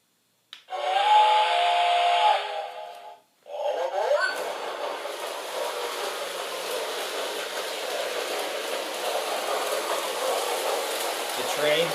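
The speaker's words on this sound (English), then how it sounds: "Now we will start the train up so you can hear it, see it run" A New Bright Christmas toy train starts up with a loud, steady steam-whistle tone for about two seconds, then, after a brief pause, a continuous hissing chuff as the train runs near and alone.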